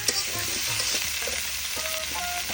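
Pale pumpkin frying in a pan for hilsa curry, a steady close sizzle with soft stirring scrapes and clinks running the whole time, no voices.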